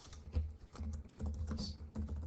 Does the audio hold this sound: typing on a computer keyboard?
yes